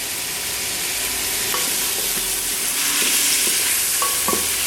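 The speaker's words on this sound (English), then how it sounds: "You fry your chicken." Chicken sizzles and fries in a pan, a steady broad hiss with a few light clinks of stirring, close and constant with no talk.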